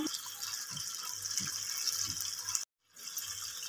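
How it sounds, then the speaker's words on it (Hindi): Half a cup of tamarind water is poured into a dish for dahi mirchi, a steady faint trickle of liquid running for a few seconds, broken by a brief gap. "मैंने हाफ़ कप इसमें डाल रही हूँ ये इमली का पानी"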